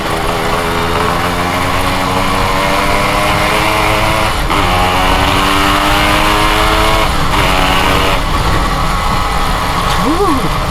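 A Yamaha RX King motorcycle with airbrushed paint revs loud and close, its engine note rising and falling in steady harmonic sweeps with sharp throttle blips throughout.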